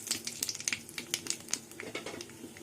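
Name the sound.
nigella seeds sizzling in hot oil for tempering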